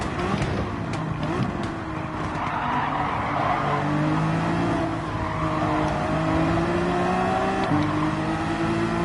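Porsche race cars in Gran Turismo 7, a steady loud engine drone with shifting pitch and tire squeal as cars race close together through a turn, continuous throughout with no pauses.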